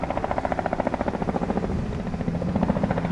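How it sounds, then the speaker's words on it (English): A helicopter passes overhead, its steady rapid rotor thumping loud and continuous throughout, heard outdoors on a motorcycle ride in the Black Hills of South Dakota. "There goes another chopper."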